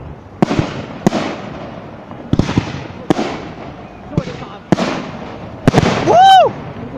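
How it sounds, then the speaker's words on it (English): New Year's Eve fireworks bursting nearby: a series of sharp, loud bangs and crackles at irregular intervals, ending with a rising whistling rocket, while people exclaim excitedly in the background. "if you see one little rocket and the fireworks going off at the bottom"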